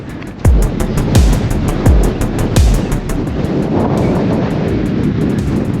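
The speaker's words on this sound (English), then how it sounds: "Oh, it's windy." Heavy wind buffeting the microphone of a cyclist riding near Carron Valley Reservoir in the Campsie Fells, a loud continuous roar with repeated low thumping gusts and a rhythmic ticking on top.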